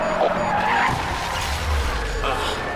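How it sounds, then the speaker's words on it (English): Tires skid and squeal as a car loses grip and crashes during a police chase in Need for Speed, a loud continuous screech with low engine rumble underneath. "Can't believe I crashed."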